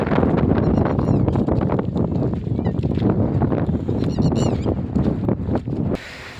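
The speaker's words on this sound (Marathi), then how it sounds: "लय वारा सुटते हो" Strong wind in a forest roars and buffets the microphone in a steady, loud rush, cutting off abruptly near the end.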